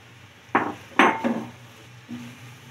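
Sliced bell pepper and cabbage tossed into a pan for chicken fried rice, giving two or three sharp clanks and scrapes of a utensil against cookware, clear and close with quiet pauses between.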